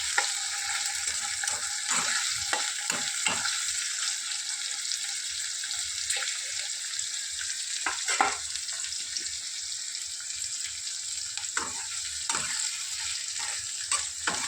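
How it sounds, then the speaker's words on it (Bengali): Food frying in a pan until lightly reddish, an ongoing soft sizzle broken by irregular scraping stirs and clinks, close and moderately loud, no talking. "একটু লাল লাল করে একটু ভেজে নিতে হবে"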